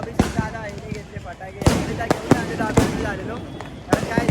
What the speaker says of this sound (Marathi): आता भाई आपण पाहिलेली फटाके फोडणार आहोत